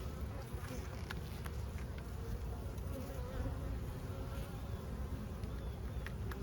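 Steady, dense buzzing of many honeybees around an open, packed hive surrounds the listener throughout, with occasional brief passes closer by over a low, rumbling background.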